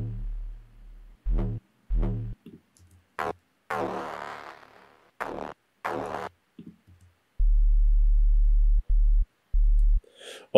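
Deep synth bassline layers, including mid and sub layers, play solo: short bursts of bass notes, then a low sustained sub tone pulses in three long blocks.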